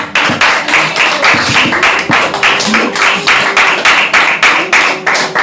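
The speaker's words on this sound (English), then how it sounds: "At least now you can clap." An audience at a spiritual talk claps in a loud, steady rhythm of evenly spaced beats that carries through the whole stretch, close and sustained, with a faint tonal hum underneath.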